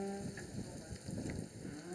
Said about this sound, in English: At least it's just rain and not snow.